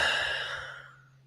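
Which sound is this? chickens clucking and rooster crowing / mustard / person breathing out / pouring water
person breathing out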